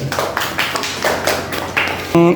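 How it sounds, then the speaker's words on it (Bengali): Children in a classroom clap together in a steady, loud burst of rapid hand claps during a geometry lesson, with a brief tonal sound at the end. "অনেক সুন্দর জোরে হাততালি"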